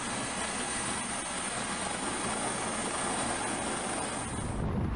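Rescue helicopter hovering over a cruise ship at sea, a dense steady rotor and turbine roar filling the whole stretch without a break, heard from a distance.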